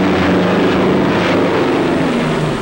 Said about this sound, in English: the convoy is being attacked by low-flying bombers